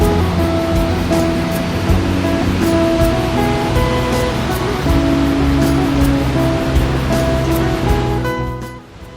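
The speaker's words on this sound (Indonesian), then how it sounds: "kami pun berhenti di titik akhir, yaitu air terjun Sentarum" The Sentarum waterfall, set in protected forest near Nanga Pari village, gives a loud, steady rushing roar that fills the whole stretch without pause.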